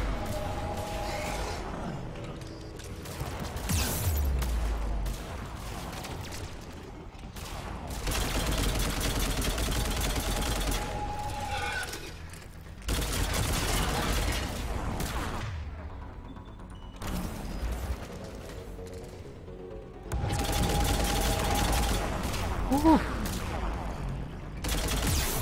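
Heavy weapon gunfire in the Mass Effect 3 video game, loud repeated bursts of rapid shots separated by brief lulls, with mechanical clatter between volleys.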